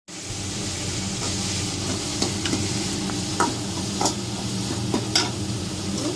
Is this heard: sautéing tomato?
yes